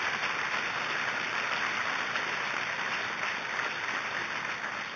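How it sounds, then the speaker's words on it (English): Audience applause at a presidential appearance, a steady, dense, unbroken wash of clapping heard from a distance with a hissy, broadcast-like quality. "You can applaud for Bill if you want."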